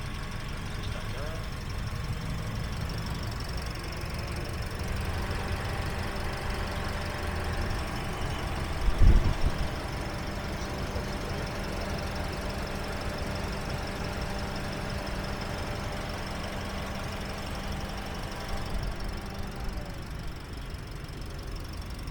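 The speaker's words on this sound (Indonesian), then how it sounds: "teman-teman bisa dengar suara irama mesinnya, masih standar ya" A 2021 Daihatsu Ayla R with automatic transmission idling, a low steady engine hum under someone talking, with a brief thump partway through.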